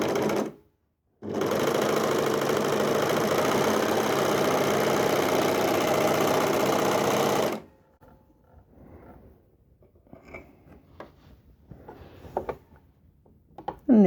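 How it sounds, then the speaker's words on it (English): A serger runs a 4-thread overlock seam with differential feed at 1, cutter trimming the fabric edge. Steady, loud motor whirr lasts about six seconds after a brief pause, then stops, leaving faint handling noises and light rustling. "And there's my overlocking."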